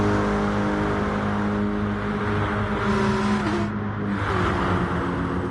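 AMG Mercedes and Porsche race cars battle on a Le Mans track, engines droning loud and continuous with a steady roar, brief pitch shifts as one car eases and accelerates again.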